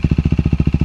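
A KTM Duke 390 with an aftermarket exhaust and no silencer idles up close, firing in a steady, rapid thumping pulse of about a dozen even beats.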